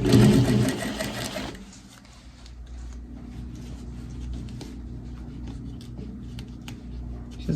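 A sewing machine stitches the seam of a gathered skirt, starting with a loud, fast mechanical whirr and then settling into a softer, steady hum with light ticking.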